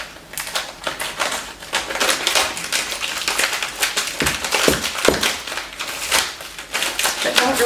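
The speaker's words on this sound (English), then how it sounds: "So I've got to use these little kid scissors." Small children's scissors snip repeatedly through frozen meat in a kitchen, giving a dense run of crisp, close crunching cuts with no pauses.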